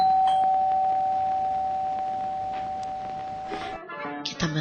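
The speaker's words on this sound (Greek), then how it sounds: "θα χτυπάει το κουδούνι της εξώπορτας" A front door doorbell rings in a Greek radio play: one steady, sustained electric ring lasting nearly four seconds at moderate loudness before it cuts off into other scene sounds.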